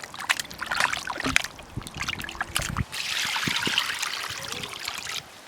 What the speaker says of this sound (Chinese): 切好的羊肉倒上水往进洗一下，羊肉多洗几遍。